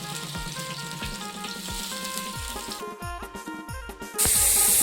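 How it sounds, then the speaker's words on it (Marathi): Bangda mackerel frying in a pan with garlic hisses and sputters steadily, with light clinks from the pan, ending in a sudden louder burst of sizzle. "तर बघू शकता दोन्ही साईडने मच्छी फ्राय बनून तयार आहे."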